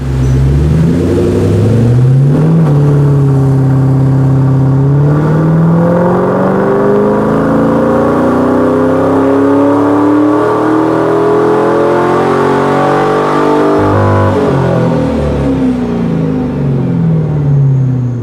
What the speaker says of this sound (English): The performance exhaust livens up this car and makes it sound so much better.